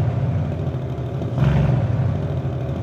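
A V8 car engine revs up briefly from a steady idle, its deep rumble swelling for a moment before settling back; close and fairly loud, with no voices.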